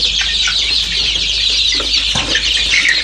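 Dense clucking from many free-range village chickens in a coop fills the space, a constant high chatter with a low hum beneath and no voices.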